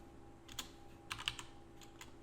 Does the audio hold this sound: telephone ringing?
no